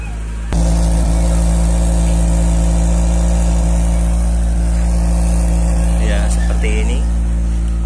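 An engine on a vehicle left parked for a week fires up about half a second in and settles into a loud, steady idle close by, with faint voices heard now and then over the constant rumble.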